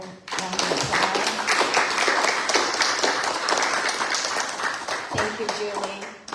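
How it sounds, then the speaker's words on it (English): A church congregation applauds steadily for several seconds, a dense, even patter of many hands clapping in a room, with a brief voice near the end. "Let's give Corey and Linda Abar another round of applause."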